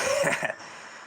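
One close, brief cough or throat-clear bursts out at the start, then fades to quiet background.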